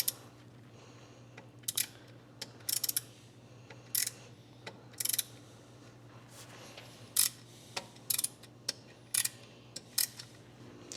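Metal part being threaded with a hand tap in a garage working on a 1967 GTO, giving intermittent sharp ratcheting clicks and squeaky cutting bursts at an irregular pace over a low steady hum.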